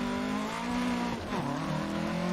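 A front-wheel-drive race car in a racing video game turns through a corner, its engine droning steadily at part throttle. The tone dips briefly mid-turn, then climbs and settles back into a continuous hum.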